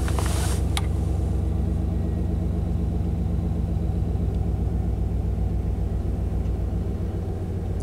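Engine of a classic Chevy idles steadily, a close, loud low rumble with a regular throbbing pulse that holds even throughout, with a couple of faint clicks near the start.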